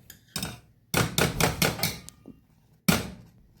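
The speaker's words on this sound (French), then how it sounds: "Tu vas venir écraser tes pommes tout en cuisant." Potato masher crushing apples as they cook for compote, a series of close, hard thudding strikes in two clusters, four or five quick mashes in the middle followed by a pause and one final heavy blow.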